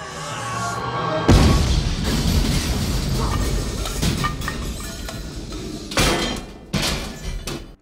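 Pipe bomb blast in a Terminator film scene: a sudden loud boom after a quiet start, followed by rumbling debris and several further heavy thuds and impacts, with no talk.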